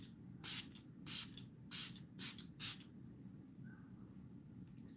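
A cosmetic spray bottle pumped five times in quick succession, each a short close hiss roughly half a second apart, followed by quiet room tone and a faint trailing sound at the end.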